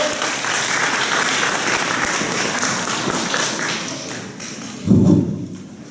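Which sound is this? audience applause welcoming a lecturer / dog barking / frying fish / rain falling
audience applause welcoming a lecturer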